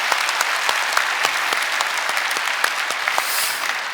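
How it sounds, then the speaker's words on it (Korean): Church congregation applauding during a Sunday worship service at Good Shepherd Church, a steady, dense wash of many hands clapping throughout, fairly loud and close with no talk over it. "다시 한번 격려의 박수 해주시기 바랍니다."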